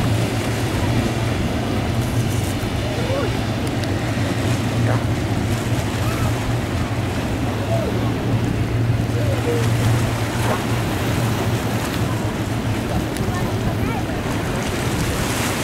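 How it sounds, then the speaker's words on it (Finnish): Racing boats coming in to the finish of a hard-fought boat race, heard as a steady, loud engine drone over wind and water noise, continuous and fairly close throughout. "Veneitä saapuu maaliin."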